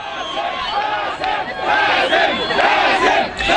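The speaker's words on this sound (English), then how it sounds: "Crowds of fans chanted his name as he arrived in court." A large crowd of fans outside a courthouse chants a name in loud, rhythmic unison, voices swelling and surging together over several seconds.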